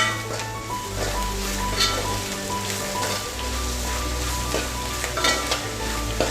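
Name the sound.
sautéing garam masala and pepper powder in a pan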